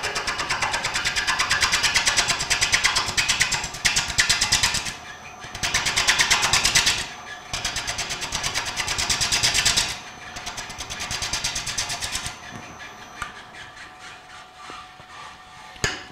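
A gouge cuts the outside of a walnut bowl spinning on a lathe screw chuck, giving bursts of bright hissing, scraping cuts that start and stop several times over the steady machine hum, with no talking.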